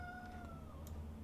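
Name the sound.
cat meowing for attention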